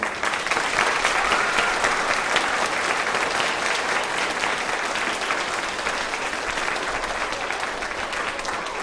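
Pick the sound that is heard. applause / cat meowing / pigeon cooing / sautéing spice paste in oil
applause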